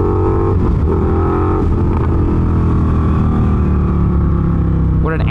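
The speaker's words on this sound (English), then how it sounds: "What an angry bike." A 2019 Indian FTR1200S motorcycle engine runs loud and close, a sustained throaty growl that holds steady and then swells in a rev near the end.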